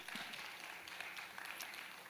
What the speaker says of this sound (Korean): 우리 감사의 박수.